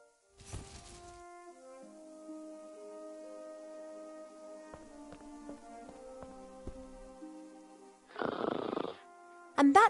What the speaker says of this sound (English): that's the sound of Cheep Cheep snoring